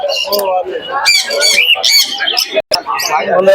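Pigeons and other birds at the Krishnanagar pigeon market in Nadia call and squawk up close, mixed with busy market voices and chatter.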